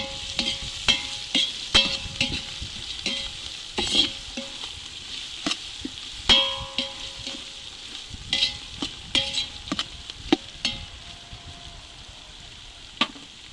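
Mutton coated in ginger-garlic paste is stirred in a pot for village-style Telugu curry, with frequent sharp clanks of the spoon against the pot over a steady frying sizzle. Close and fairly loud, no talk.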